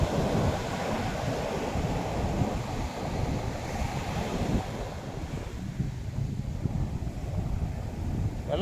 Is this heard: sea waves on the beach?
yes